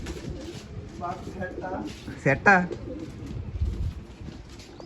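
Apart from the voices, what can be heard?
pigeons cooing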